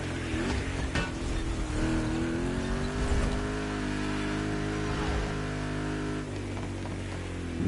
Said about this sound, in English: the car actually sounds good, feels good